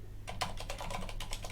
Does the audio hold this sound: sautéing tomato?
no